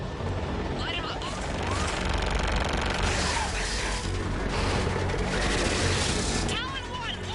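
Air support strafing ground targets in the sci-fi shooter Mass Effect 3, dense rapid gunfire and booming impacts over rumbling combat noise, with radio chatter from pilots throughout.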